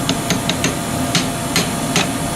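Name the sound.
hammer tapping a part off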